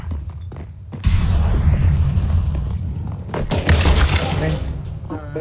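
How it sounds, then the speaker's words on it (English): A flashbang grenade detonates in a first-person shooter match, a sudden loud burst followed by sustained crackling ringing noise, with players talking over the game audio. "Throw in the flashbang."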